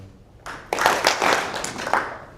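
An audience claps together in a synchronized group call-and-response, a few loud collective hand claps in quick succession.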